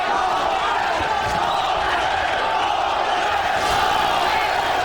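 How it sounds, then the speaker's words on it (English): A boxing crowd in Sacramento at a scheduled ten-round welterweight bout between Aaron Davis and Jose Luis Lopez chants and roars in a dense, continuous mass of voices, loud and steady throughout. "Crowd chanting Lopez, Lopez,"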